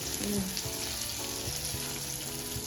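Small fish frying in a pan at home, a dense steady sizzle with a few light clinks of a utensil as pieces are turned, close and fairly loud.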